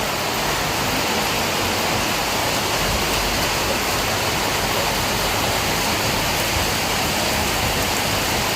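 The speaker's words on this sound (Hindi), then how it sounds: "इतनी भयंकर जोर वाली बारिश स्टार्ट हुई है।" Heavy rain pours down in a steady, loud, unbroken rush of noise with no let-up, and no voices are heard over it.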